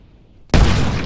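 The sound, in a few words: boiling liquid expanding vapor explosion (BLEVE) of gas cylinder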